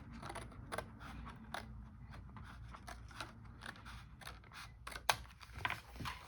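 Scissors snip through paper while making a Christmas card organizer and gift box, a series of quiet, close, irregular cuts with a sharper crisp snip near the end.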